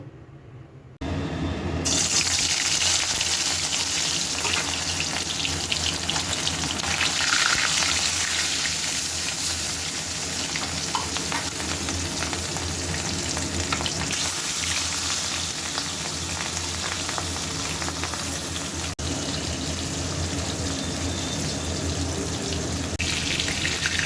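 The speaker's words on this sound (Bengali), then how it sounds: "তেল গরম হয়ে গেছে এবার মাছটা ভাজবো" Fish fries in hot oil in a home kitchen, giving a dense, continuous sizzling hiss that starts abruptly and holds loud and even for the whole stretch, with no voices.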